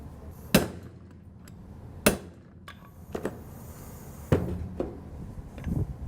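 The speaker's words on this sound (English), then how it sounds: "Next, you're going to insert your cam pin." A cam pin is tapped into a Dixon Bayco API adapter, producing several sharp, separate metallic knocks spaced a second or so apart, close and clear over a quiet background.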